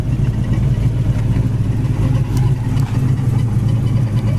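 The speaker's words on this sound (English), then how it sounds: "We got a little exhaust vibration. You can kind of hear a little bit there." A 1965 Ford Mustang coupe engine idles steadily at close range, a low rumbling drone with a slight exhaust vibration and faint clatter running evenly throughout.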